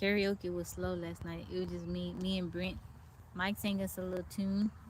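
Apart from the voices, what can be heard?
None of the usual background noises is heard.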